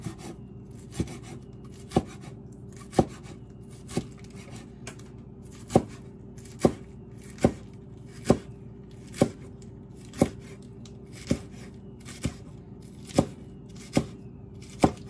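A knife slices through a rolled-up cigar of lettuce on a cutting board, making crisp, evenly spaced cuts about once a second in a quiet kitchen.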